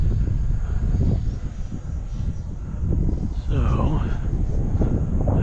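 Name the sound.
wind while flying an aircraft in a flight simulator video game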